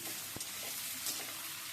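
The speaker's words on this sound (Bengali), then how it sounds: "নেড়ে ছেড়ে আলুগুলো ভেজে নিচ্ছি" Potatoes frying in a pan while being stirred, a dense, even sizzle with a faint scrape or two, close and steady for under two seconds, with no voices.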